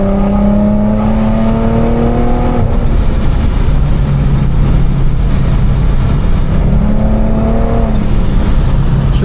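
A 700-horsepower supercharged Infiniti G37 accelerating hard on a back road, loud engine climbing through gears with rising whine, dropping at a shift and pulling up again, heard from inside the car.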